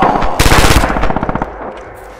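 Bursts of machine-gun fire in the World War II shooter Red Orchestra 2, loud and close, a rapid rattling volley that tapers into separate cracks.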